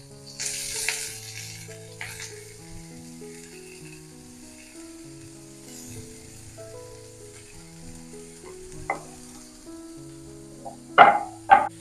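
Banana stem pieces sizzle in hot oil in a pan with curry leaves and green chillies, a steady low fry under soft scraping stirs, with a few sharper spoon knocks against the pan near the end.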